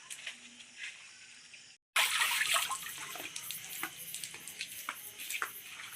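Water splashes and trickles as mud is washed off harvested ghetkol. A brief quiet stretch is followed by a sudden cut to louder, closer splashing with intermittent pours and drips.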